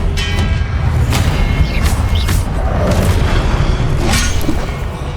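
A spell cast during a Hogwarts Legacy duel: loud, dense booming magical impacts with crashing bursts, continuous and close throughout.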